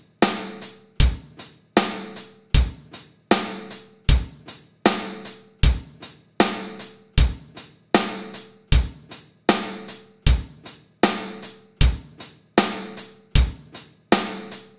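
Sharp, punchy hits processed through an AS-MK609 Neve compressor plugin at low input with slow release, about twenty-two evenly spaced strikes in a steady loop, each decaying quickly, loud and close with no talking.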